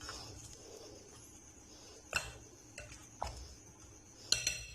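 A spoon mixes spices into mutton for a Mughlai mutton curry, with soft scraping and several sharp clinks against the pot at irregular intervals, quiet and close, with no talking.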